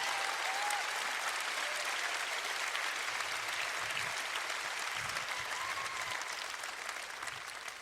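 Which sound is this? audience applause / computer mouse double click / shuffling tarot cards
audience applause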